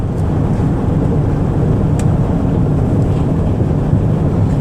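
A car cruising on the highway at 65 mph gives a steady, loud broadband rumble of road and wind noise. It holds even throughout, with no talk.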